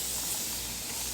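A steady, close hiss of liquid spray mists onto curly hair held upside down in a single sustained burst lasting about a second.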